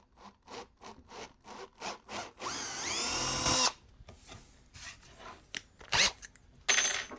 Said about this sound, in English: So again, try to keep that drill slow.